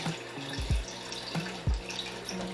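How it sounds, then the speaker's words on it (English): Kitchen tap water runs into a red cooking pot in a sink, a steady close splashing stream with a few deeper sloshing thumps as the pot fills. "let's go ahead and add some water to this red pot"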